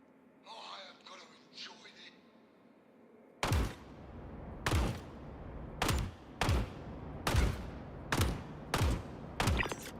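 Shotgun blasts in a video game, eight sharp, loud reports spaced about a second apart after a quieter opening with faint chatter and background sounds.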